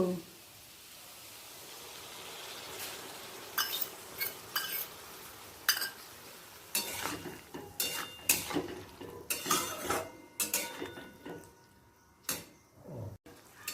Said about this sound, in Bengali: লাল লঙ্কার গুঁড়ো একবার আলুর সাথে মিশিয়ে নিলাম এরপর দিয়ে দিচ্ছি বেটে রাখা পোস্ত